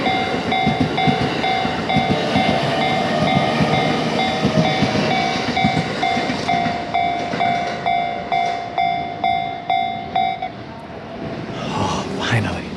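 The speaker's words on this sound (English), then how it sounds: "and the train is finally leaving." A long train pulls out of a station in Japan, with a steady rumble, a sustained tonal whine and rhythmic clacking of wheels over rail joints that grows through the passage, while a person talks over it.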